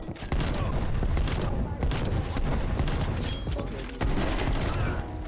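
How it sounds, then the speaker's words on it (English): Continuous rapid gunfire from the Call of Duty Black Ops Cold War video game, a dense barrage of loud, overlapping shots, near and sustained, with a brief dip before the firing resumes. "Let's use this revolver."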